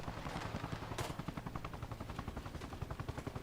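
A stolen Humvee in a video game sprays steady automatic gunfire, the regular rapid bursts pulsing evenly throughout, with one sharper crack early on, at moderate loudness and no talk over it.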